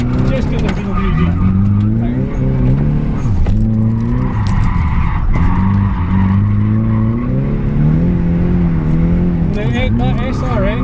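Street-legal Nissan 200SX S14 with an SR engine and bigger turbo drifting a lap, engine revving and wavering steadily with tyre skid noise throughout, close and loud, with a voice talking over it.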